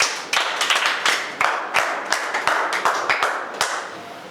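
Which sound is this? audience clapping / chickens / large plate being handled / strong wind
audience clapping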